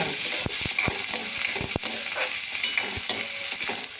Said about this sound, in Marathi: कांदा चांगला गुलाबी रंगावर भाजते.